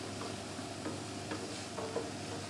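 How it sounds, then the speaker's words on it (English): Onions sizzling in a frying pan while being stirred, a steady close crackle with brief scraping strokes of the utensil, no talking. "here my onions sizzling away there"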